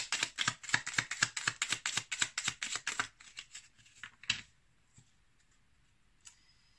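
Oracle cards from the Petit Oracle des Guidances Étoilées deck are shuffled in a fast, steady riffle of crisp flicks for about three seconds. A few slower taps follow, then near silence and one last faint flick.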